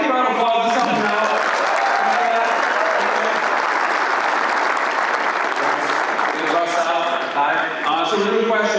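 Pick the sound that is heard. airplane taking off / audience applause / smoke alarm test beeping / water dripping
audience applause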